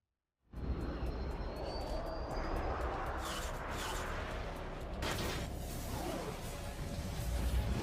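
An F-16 fighter jet flying, a loud sustained roaring engine rush that starts abruptly and holds steady for several seconds, with a whooshing swell near the middle, no voices.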